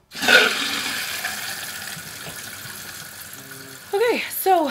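Water rushes into a toilet tank through a newly connected fill valve, a steady hiss of flow that stays loud throughout, with a voice cutting in near the end.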